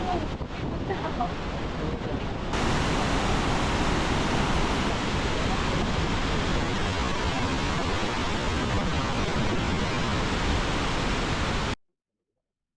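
A steady, loud roar of rushing water at Iguazu Falls fills the whole stretch, dense and unbroken, then cuts off abruptly near the end.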